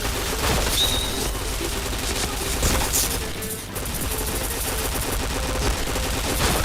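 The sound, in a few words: gunfire in the video game Point Blank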